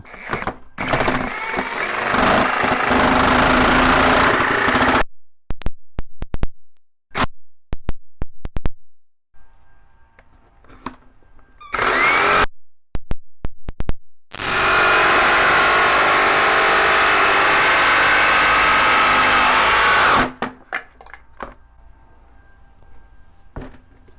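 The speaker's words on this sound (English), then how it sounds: "with Jigsaw you're really wanting to cut outside, because you're probably not going to make a perfect cut" A Milwaukee M18 Fuel brushless D-handle jigsaw cuts in two sustained, loud bursts of buzzing blade noise. Short clunks and handling sounds fall between the bursts.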